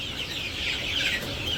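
Chickens clucking steadily at close range as they come along one by one, a continuous busy chatter of hens with no other sounds over it.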